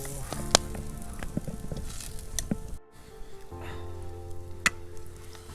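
Vegetables sizzle and fry in a pan at a rainy camp in Kashmir, a faint steady crackle broken by sharp pops and clinks, with a short silent gap partway through.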